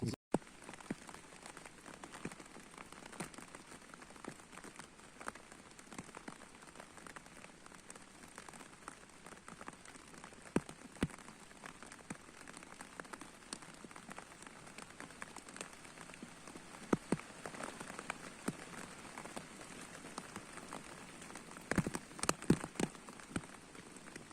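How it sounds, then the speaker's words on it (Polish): Steady rain falls on a tent pitched overnight in a swamp, a continuous even patter of drops on the fabric with a few louder, closer hits near the end and no talking. "martwi mnie to, że, że nadal pada i nie przestaje"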